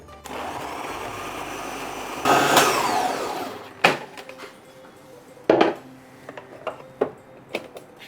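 A mixer grinder whirs loudly for about a second and a half while processing chakli dough in its large jar, then gives way to several sharp clinks and knocks.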